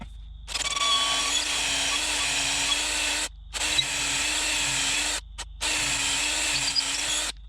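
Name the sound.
power drill driving lag screw into floor joist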